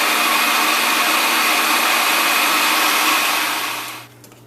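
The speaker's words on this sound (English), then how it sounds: "all I'm doing now is going to blend that" A blender purees mango peach hot sauce in a loud, steady whir that holds for about four seconds before winding down and cutting off.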